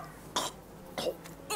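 A character coughing in the video game A Plague Tale Requiem, three short raspy coughs spaced about half a second apart, faint over a quiet game background.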